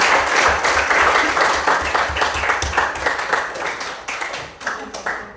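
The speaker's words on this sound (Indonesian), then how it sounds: "Berikan aplaus kepada kelompok 4." A classroom of students applauds a student discussion group, with steady, dense clapping from many hands that carries on for several seconds before thinning out near the end.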